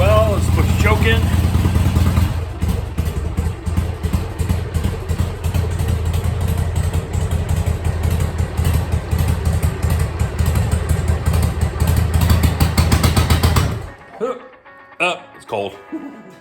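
A Harley-Davidson motorcycle engine idles loud and close after a carburetor repair, a steady low rumbling beat with mechanical clatter, then cuts off abruptly, leaving a short voice in near quiet.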